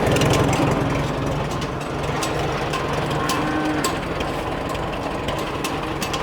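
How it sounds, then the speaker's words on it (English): An old tractor engine runs after starting, a loud, clattering low chug with rapid mechanical ticking over it, heard close and steady throughout. "And the old tractors are going."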